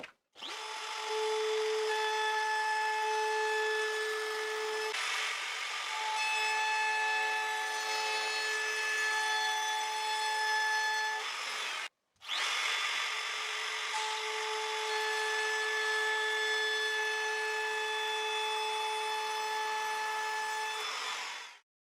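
A power sander works over plywood strips for a homemade router table, a loud steady whine running almost continuously across two long passes, with one brief stop near the middle.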